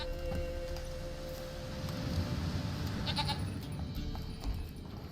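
A goat bleats in The Witcher 3, a few wavering cries over a steady layer of game ambience.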